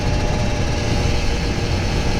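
A Kawasaki Ninja RR 150 motorcycle engine runs steadily with a dense, buzzing drone, close and fairly loud, with no voices over it.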